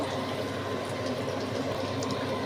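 Bata fish frying in spiced masala in a pan gives a steady, loud, even sizzle, close up and uninterrupted throughout.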